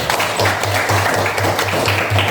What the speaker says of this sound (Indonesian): Kita beri aplaus untuk ini, Erwin.